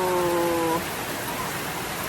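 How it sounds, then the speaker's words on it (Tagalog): Heavy rain falls in a steady, even hiss outdoors during a home cooking session of large tulingan fish, with a brief tonal hum fading out early and no talking. "Ang lakas ng ulan."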